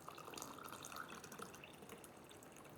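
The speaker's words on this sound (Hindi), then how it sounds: "एंड नाउ इसको टॉप अप करेंगे पानी के साथ।" Water poured from a tap or jug into a glass of cumin lemon drink with jaggery, salt and black salt, a soft continuous trickle and splash, fairly quiet and alone.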